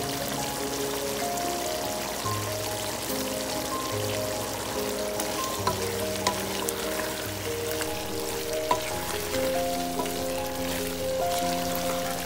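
Black pepper and crushed chili fry in a pan for chicken jalfrezi, a steady soft sizzle and bubbling that runs throughout beneath light background music, with no talking.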